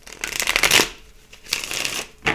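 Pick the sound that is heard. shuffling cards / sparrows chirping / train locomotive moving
shuffling cards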